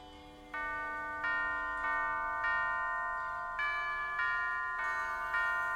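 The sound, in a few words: bells ringing in the video game Alice: Madness Returns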